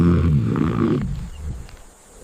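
A leopard growls low and rumbling, a deep throaty sound that is strongest in the first second and then fades into quieter breathy rumbles, with no voices.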